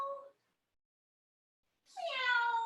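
A voice imitates a cat, giving a short meow, then after a pause of silence a longer, drawn-out mewing cry, close and clear.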